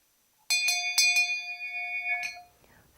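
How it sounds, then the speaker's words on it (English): An old school hand bell rings up close, four quick bright strikes then a final clang whose metallic tone rings on and fades away, loud and isolated with no voices. "in the past, the teacher would ring a bell just like this one"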